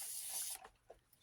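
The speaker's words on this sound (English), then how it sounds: "Spray it on paper towel." Mr. Clean cleaner hisses from a spray bottle onto a paper towel in one loud half-second burst, then gives way to faint handling noises.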